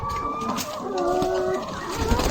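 Laying hens coming out of their coop on a farm, with soft clucks and calls from several birds over a steady background and a few knocks and shuffles nearby.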